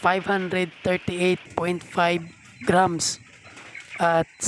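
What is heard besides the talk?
No distinct noise like a dog, phone or traffic.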